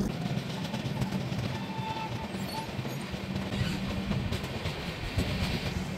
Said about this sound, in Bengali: ট্রেন এসে পৌঁছেছে হারপালপুর স্টেশন।